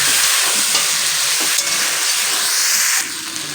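Spices with coriander powder stir-fried in a hot pan for a Bengali spinach dish, a loud continuous sizzle and hiss with soft scraping stirs, close by, easing slightly near the end.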